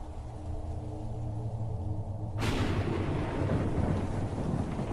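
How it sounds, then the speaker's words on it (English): Stormy night with heavy rain: a steady wash of rainfall is broken midway by a sudden loud crack of thunder that leaves a rolling, roaring rumble over the continuing downpour. "It was a stormy night, the kind where the wind howls like a wounded animal and rain pelts against the windows like icy daggers"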